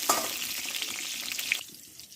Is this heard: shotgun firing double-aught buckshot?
no